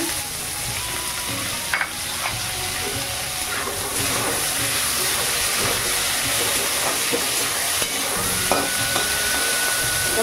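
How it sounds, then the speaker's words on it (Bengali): Onions and tomatoes sizzle steadily in a hot pan while a spoon scrapes and stirs through them, a close, continuous frying hiss with occasional clinks of the utensil. "পেঁয়াজগুলো দিয়ে দিচ্ছি। টমেটোগুলো দিয়ে দিচ্ছি।"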